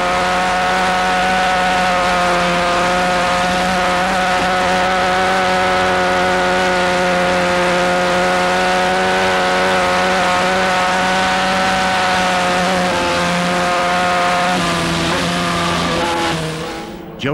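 A Honda RC30 750 race motorcycle screams at full throttle on the Isle of Man TT road course in 1993, a loud, sustained, steady high-revving engine note held for many seconds before cutting off.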